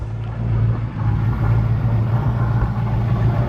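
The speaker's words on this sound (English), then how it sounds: "water pump's making a horrible noise" A 1969 Camaro engine, left abandoned for 18 years and fitted with a failing water pump, idles close by with a steady low rumble and a faint rattle underneath.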